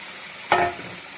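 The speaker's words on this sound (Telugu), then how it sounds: "ఇప్పుడు మనము ఈ బీట్రూట్ జ్యూస్ తీసుకున్నది ఈ రవ్వలో పోసేసాము" Beetroot juice poured into semolina frying in a pan gives a single sudden sizzling hiss that flares loudly and fades within a fraction of a second.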